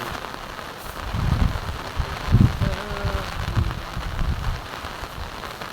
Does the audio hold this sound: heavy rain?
yes